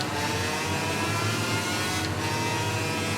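Motorbike engine revving at a race start in the game Ride 3, a dense, steady roar that holds loud and unbroken throughout with a brief dip in the high end partway through.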